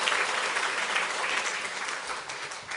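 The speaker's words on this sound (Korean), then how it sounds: "우리 박수 한번 심차게 칩시다" A church congregation applauds during a worship service after the choir and orchestra finish, a broad, sustained roar of many hands clapping that slowly fades toward the end.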